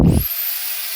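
An electric drill whirs briefly into a piece of wood, a short loud burst of grinding that gives way to the motor's high spinning whine running on freely for most of the second.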